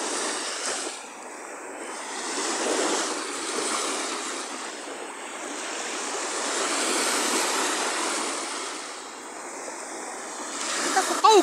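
Waves breaking and washing steadily on a Mediterranean shore, a continuous broadband surf roar that swells and eases in slow surges, fairly close, with no talk over it.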